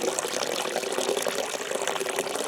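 Water pours out of the corner of a tub during ore extraction testing, a dense, steady splashing flow that stays fairly loud throughout with no voices.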